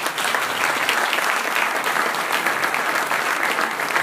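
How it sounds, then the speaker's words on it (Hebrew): Audience applause at an alumni gathering honoring a rabbi, dense and steady clapping from a large crowd throughout, fairly close and unbroken. "וכל הצוות הקדוש שיושב פה מחיאות כפיים."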